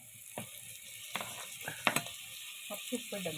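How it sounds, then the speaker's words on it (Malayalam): Onion drops into hot coconut oil and fries with a faint, steady sizzle, punctuated by a few quiet scrapes and clinks of stirring in the pan. "വെളിച്ചെണ്ണ ചൂടായിട്ടുണ്ട് ഇനി നമ്മളെ ഉള്ളി ഇട്ട് കൊടുക്കുന്നുണ്ട്"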